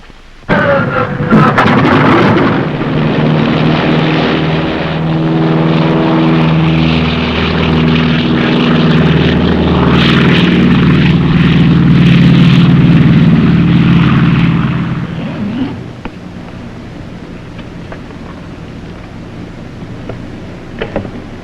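A 1950s propeller airliner takes off, its engines roaring loudly and steadily with a throbbing, buzzing drone for about fifteen seconds before dropping to a quieter rumble.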